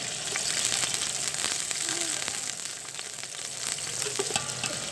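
Onions fry in a pot for teh wali chicken biryani, giving a steady, close, dense sizzle with occasional stirring scrapes throughout and no voices.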